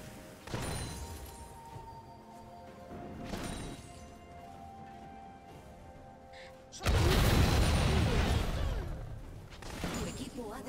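Explosions in the League of Legends video game thump and crash in short bursts, with a louder, sustained blast midway amid busy game sound effects and a background music bed.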